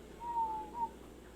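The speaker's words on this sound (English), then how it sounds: "It's whistling the Jaws theme." A faint, thin whistle in the Jaws theme carries two drawn-out tones over a quiet background hum, with no voices.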